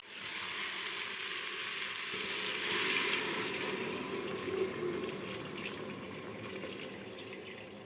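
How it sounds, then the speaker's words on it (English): Vegetable broth poured into a pot for vegan vichyssoise soup, a steady splashing liquid stream with a sizzling edge that continues throughout, fairly quiet, with no talking. "now let's put the broth"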